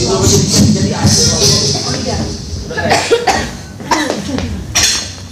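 A few sharp coughs ring out near the end over a noisy room full of talk and the clink of dishes and cutlery.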